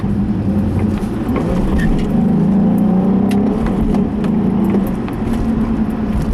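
A Nissan 350Z sports car drives along, its engine note steady and fairly close from inside the car, with faint rattles and brief clicks over the running drone.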